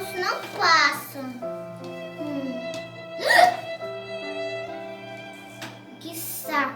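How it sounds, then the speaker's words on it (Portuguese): A child's hiccups pop out in a few short, sharp catches spread across the clip, mixed with the child's own whimpering and talking voice. "os soluços não passam"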